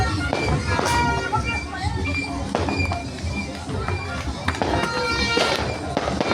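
Rapid New Year 2026 fireworks and firecrackers crackle and pop continuously, sharp bangs scattered over a dense rumble, with voices chattering underneath.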